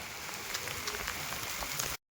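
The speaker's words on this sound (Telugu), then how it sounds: "ఫుల్ వర్షం పడుతుంది." Heavy rain pours steadily on an outdoor roadside during a walk toward Ujjain, a dense continuous hiss with scattered drop patters, then a brief cut to silence near the end.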